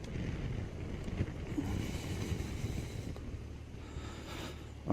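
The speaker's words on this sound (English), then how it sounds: "Oh, it is windy." Wind buffets an outdoor microphone in steady, rumbling gusts that roar through the full length of the recording, loud and close with no voices present.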